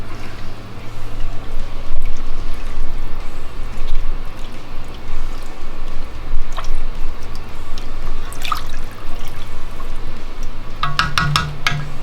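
Half and half stirred into a pot of broccoli cheddar soup gives a continuous wet, sloshing churn, close and steady, with a few sharper clinks of the utensil toward the end.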